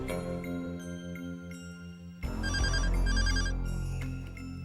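A phone ringtone plays loudly and alone, a steady looping electronic melody with repeating tonal notes that swells fuller partway through.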